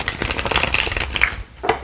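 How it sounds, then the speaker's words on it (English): An oracle and tarot card deck is shuffled by hand at close range, a quick run of crisp riffling flutters and soft card slaps lasting under two seconds. "So let's see how well it shuffles"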